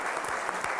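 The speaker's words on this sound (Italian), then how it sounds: "facciamo un applauso al vostro amico" Brief burst of audience applause at a televised Italian talk event, fairly quiet and steady across the short moment.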